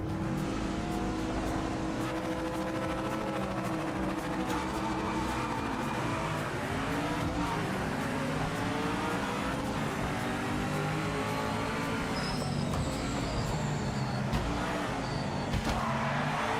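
A GTO race car in Project Motor Racing with a 7,600 RPM redline, engine roaring continuously and climbing and falling through revs, loud and close with no talk.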